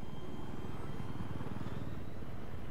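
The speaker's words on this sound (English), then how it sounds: "Shack Chopper right above JJ." Helicopter flying overhead in the video game Battlefield 3, a continuous droning rotor and engine roar holding steady throughout, moderately loud with no talk.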